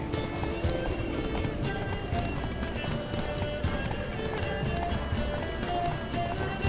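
Rapid, continuous hoofbeats of a galloping horse in The Witcher 3 pound along with a dense background, and voices talk over the clatter.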